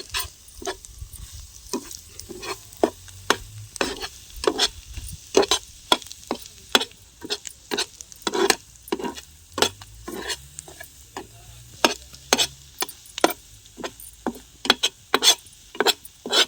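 Egg roast frying in a pan while being stirred, sharp rhythmic scrapes and taps of a spatula repeating every half second or so over a low, soft sizzle.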